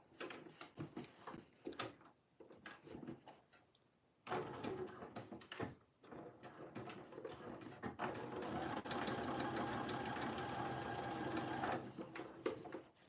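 A sewing machine runs top stitching along a jeans pocket in bursts, short stitching runs with brief pauses and clicks early on, then a longer steady whirring stretch near the end.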